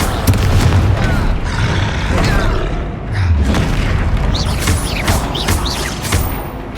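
Spell blasts in the game Hogwarts Legacy boom one after another, loud and deep, with crackling bursts and magical whooshes layered over rumbling impacts throughout.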